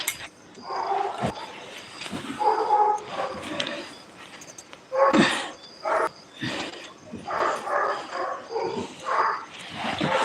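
A dog barks in repeated bursts over several seconds, fairly close, with faint clinks in the background.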